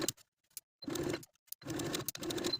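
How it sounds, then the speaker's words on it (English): Sewing machine edge stitching along the inner fold of bias tape on a square neck ruffle tank armhole, a couple of brisk running stitch bursts broken by short stops, close and clear. "Edge stitch all along this inner fold of your bias tape from one edge to the other."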